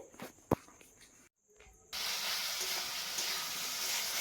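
Spice paste for chicken curry with potatoes fries in a pan, with a soft hiss and a sharp clink of stirring early on. After a brief drop to near silence, a loud, steady sizzle rises and holds to the end.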